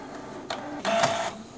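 An inkjet printer fitted with a continuous ink supply system starts a page, giving a short mechanical whir followed by a louder burst of feed and carriage movement, close and without speech.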